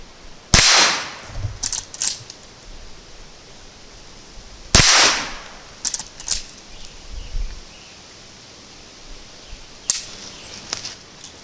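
Three sharp, loud gunshots from a Henry Mare's Leg lever-action firing at a blast-back target, spaced a few seconds apart, each followed by faint clanks and rustles of handling, with no talking.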